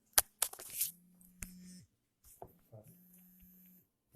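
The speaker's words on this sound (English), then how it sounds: "That's my phone." A mobile phone vibrates in two buzzing bursts, each lasting about a second, separated by short pauses, with brief clicks and handling noise between them.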